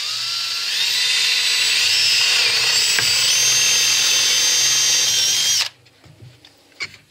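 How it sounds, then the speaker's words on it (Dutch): A jigsaw cuts through wood while a workbench is being built, giving a loud, steady high-pitched whine with shifting pitch that runs for about five and a half seconds and then stops abruptly, leaving quiet handling noises. "Zagen met de decoupeerzaag."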